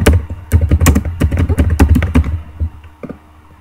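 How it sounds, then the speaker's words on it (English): Rapid typing on a computer keyboard during a Town of Salem game session, a dense run of clicky keystrokes for about two and a half seconds before tapering to a few scattered taps. "I think Cameron is typing something"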